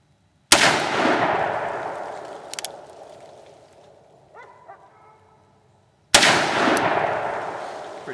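Two loud, sharp .44 Magnum shots from a Ruger Redhawk revolver fired outdoors on frozen ground, each with a long rolling echo. The shots come about six seconds apart, with faint metallic clinks in between.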